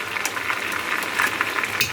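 Ginger garlic paste sizzles and crackles in the pot for a yakhni pulao, a steady, close frying hiss with light stirring scrapes.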